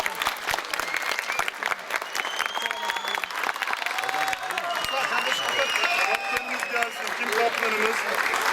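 Audience applause at a children's football tournament trophy ceremony in Denizli as the third-placed team is called up, dense continuous clapping with cheering and voices mixed in.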